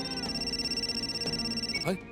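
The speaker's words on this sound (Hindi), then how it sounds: "मंगलू का फोन है हीरो की डील के लिए" A cartoon telephone rings with a steady, bright electronic tone pulsing in quick regular bursts for about two seconds, then cuts off sharply.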